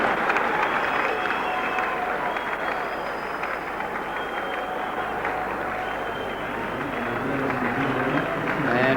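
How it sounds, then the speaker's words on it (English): Warm crowd applause at the Sydney Cricket Ground during a 1984 Australia v Pakistan test match, a steady broad wash of clapping and murmur that runs throughout. "And warm applause for Kazim Omar as he appears on the Sydney Cricket Ground for the first time in a test match."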